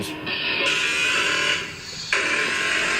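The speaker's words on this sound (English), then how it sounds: "That's my lunch alarm." A harsh electronic lunch alarm buzzer drones continuously, briefly dipping before sounding again at full strength.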